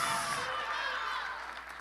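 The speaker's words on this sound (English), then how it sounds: "A big round of applause to our summa cum laude honorees." Faint, distant applause from a crowd at a 2022 high school graduation ceremony for summa cum laude honorees, a soft wash of clapping fading slightly over a couple of seconds.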